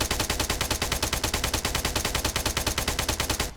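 Rapid sustained automatic fire from an MX-SW light machine gun in ArmA 3, a dense unbroken burst of evenly spaced loud shots lasting several seconds before cutting off abruptly.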